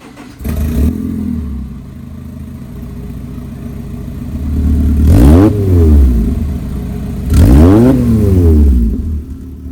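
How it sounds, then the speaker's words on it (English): A Honda S2000 engine starts up and idles, then revs sharply twice, each rise and fall clear and loud with no talking. "if you've ever heard a Honda S2000, it's definitely that distinct exhaust note"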